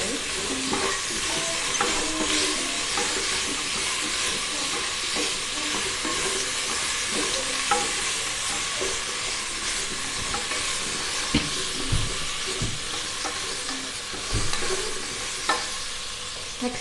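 Mint leaves are stirred into rice in a frying pan, a continuous sizzle with repeated close scraping and clinking of a spatula against the pan, no voices present.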